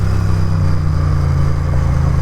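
A motorcycle engine runs loud and steady, its deep low rumble throbbing without a break as it revs, close by with no talk over it.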